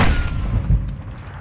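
A pistol fires in Call of Duty, giving one loud, close, booming shot at the start that rings on, followed by a quieter second report and a fading tail.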